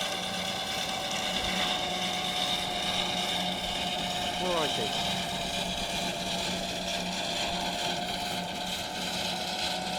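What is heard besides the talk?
steam traction engine running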